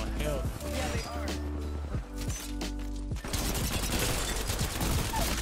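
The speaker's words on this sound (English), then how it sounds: "they're shooting us from off the roof" Rapid gunfire from Apex Legends gameplay crackles through dense game noise and music, with bursts of shots layered under excited voices talking over the action.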